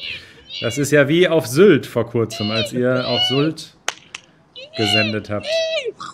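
A seagull perched high on a tower in a city gives shrill, repeated cries, heard under and between clear German speech from people nearby.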